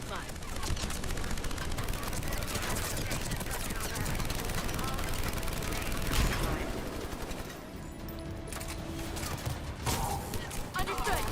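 Turret gunfire in Mass Effect 3, dense rapid bursts of automatic shots and mechanical clatter running continuously at moderate distance, with voices talking over the combat.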